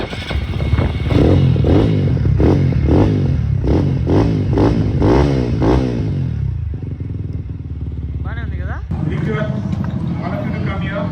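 TVS Apache RTR 200 motorcycle with a Race Pec exhaust revving hard at a race track, a rapid series of loud rising blips followed by a steady rumbling idle and another burst of throttle.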